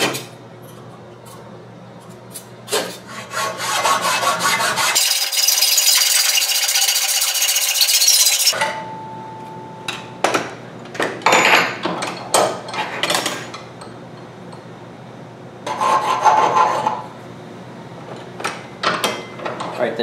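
A quarter-inch metal axle rod is hand sawn while clamped in a vise, with rhythmic rasping strokes at first and then a long, loud run of steady cutting, followed by scattered knocks, rattles and handling clatter nearby.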